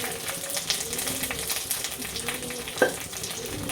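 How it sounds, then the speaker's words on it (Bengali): Rice fries in a pan with a little salt, crackling and sizzling steadily, with scraping stir strokes and one sharper clink from the utensil. "একটু নুন দিয়ে ভাজতে হবে"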